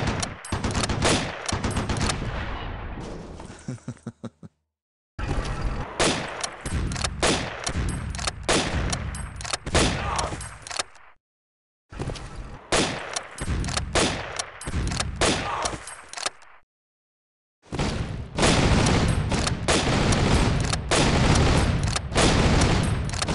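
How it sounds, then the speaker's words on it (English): Gunfire from a German half-track attacking infantry in the Civilization III strategy game, loud rattling machine-gun bursts with booms in several long volleys separated by brief silences. "This is a German half-track attacking one of my infantry."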